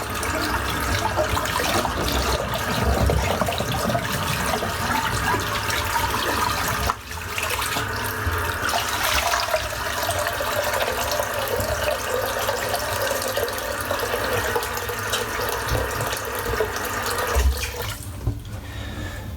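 Lukewarm tap water pours steadily into a bathroom sink during a wet shave, the sink partly clogged and filling. The close, continuous rushing splash holds an even level for about nineteen seconds with brief shifts in the flow, and nobody speaks.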